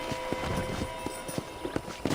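Steady clip-clop of horse hooves at a walking pace in Red Dead Redemption over a dense background of ambient noise and music.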